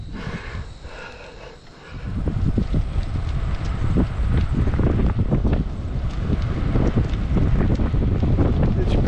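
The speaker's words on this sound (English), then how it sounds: "Now it's an uphill with a headwind" Buffeting headwind roars across the microphone of a cyclist climbing uphill on a long 200 km brevet ride, a loud, gusty rumble that rises and stays heavy after a calmer opening moment.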